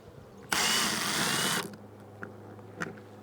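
A power drill whirs loudly for about a second removing self-drilling screws from an RV bracket, then stops, followed by a couple of light clicks and clatters.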